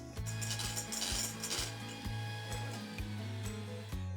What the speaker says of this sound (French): Je vais monter les blancs en neige.